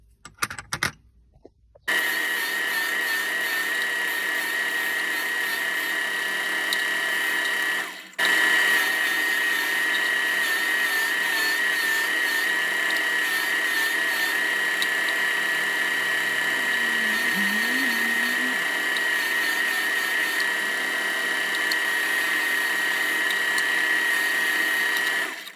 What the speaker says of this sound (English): I just need to grind a radius on here so that the thing actually swivels